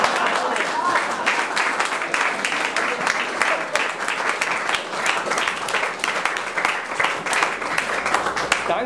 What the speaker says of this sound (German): Oh. Applaus.